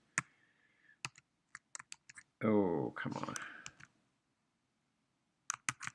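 Quick, scattered keystrokes tap on a computer keyboard in a quiet room, sharp close clicks in short bursts with pauses, interrupted by a brief spoken exclamation.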